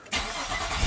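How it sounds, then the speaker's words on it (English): A Nissan car engine with a suspected alternator problem cranks and catches almost at once, then settles into a steady close-up running roar. "Let's start it up, see what happens."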